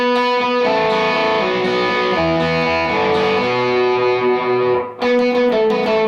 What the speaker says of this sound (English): otherwise, without the palm mute, it's gonna sound like this.